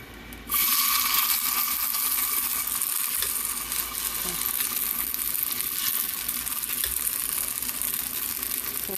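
Black chickpea pongaralu batter fries in a pan over a medium flame, a steady close sizzle that starts abruptly and continues evenly throughout with faint crackles.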